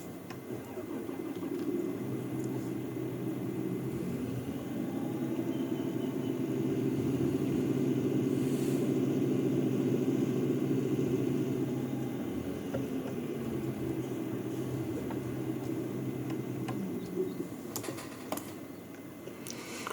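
Harvester engine droning in Farming Simulator 19, a steady low mechanical hum that swells in the middle and eases off, with a few clicks near the end.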